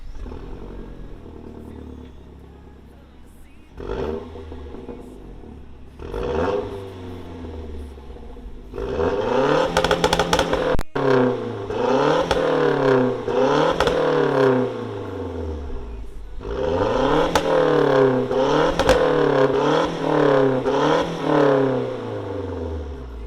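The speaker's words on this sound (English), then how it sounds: "I haven't like revved the car like that, and I don't even know how long." A Mazdaspeed 3 engine is revved hard in repeated bursts: a few short blips, then a long series of rising and falling revs that sweep up and down loudly, with no talking.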